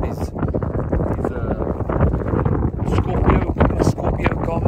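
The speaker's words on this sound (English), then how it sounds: "I'm sure you can hear it's a bit windy this afternoon." Strong wind buffets the microphone in a steady, loud roar with gusty rumbles while fishing from a boat on the lake at Albert Falls on a windy afternoon.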